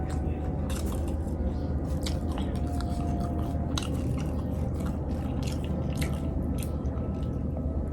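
Close, steady chewing and soft squishy bites while eating a spicy Thai salad of minced young mushrooms with tiw leaves, wet mouth sounds repeating irregularly over a constant low background hum.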